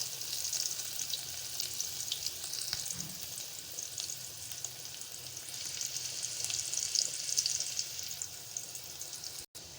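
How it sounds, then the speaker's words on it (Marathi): Finely chopped onion fries in hot oil tempered with asafoetida for a Malvani mutton dish, giving a steady, close sizzle throughout with faint stirring. "आता मी बारीक चिरून घेतलेला कांदा फोडणीला घालत आहे"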